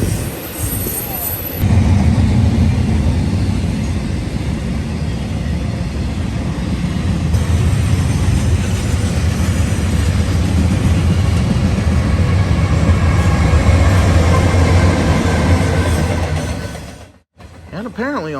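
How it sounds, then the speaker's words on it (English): Westbound intermodal freight train led by a Dash 9 and two C6M locomotives passing at night, a loud, sustained rumble and roar of engines and rolling wagons lasting many seconds, cutting off abruptly near the end. "we happened to notice the headlight of a westbound intermodal with a Dash 9, a C6M, and a fresher C6M"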